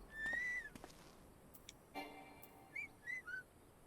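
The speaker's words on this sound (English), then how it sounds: "There's a different whistle for each stance." Short rising and falling whistle tones from a companion's stance change in Final Fantasy XIV, several chirpy notes spaced apart over quiet game ambience, with a brief faint tonal chime in the middle.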